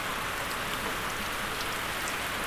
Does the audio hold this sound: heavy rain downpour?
yes